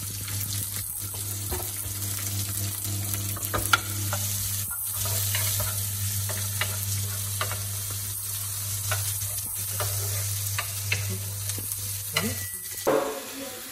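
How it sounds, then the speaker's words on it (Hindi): Chopped onions frying with green chilies in a pan, a steady close sizzle with repeated scraping stirs throughout and a clatter near the end. "अब मैं इसमें अनियन डालूंगी क्योंकि 10 सेकेंड हो गए।"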